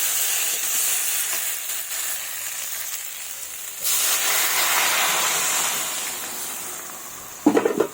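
Water is poured into a hot pan of sautéed spices for a fish curry with cauliflower, tomato and potato, setting off a loud steady sizzle and hiss that surges midway, with a few brief clanks near the end.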